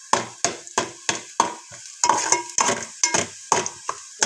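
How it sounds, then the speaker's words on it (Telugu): Cumin seeds fry in oil in a pan, heard as about a dozen evenly spaced scraping stirs over a bright crackling sizzle, close and fairly loud with no talking. "కొంచెం జీలకర్ర వేసుకుందాం. జీలకర్ర ఆయిల్ కూడా కొంచెం వేసుకుందాం."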